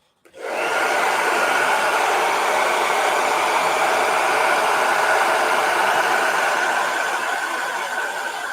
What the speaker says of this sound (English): All right, I'm going to hit this with a blow dryer.